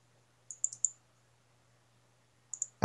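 A computer mouse clicks in a quick burst of three or four sharp taps, a pause, then two more clicks, close and crisp in a quiet room with a faint low hum beneath.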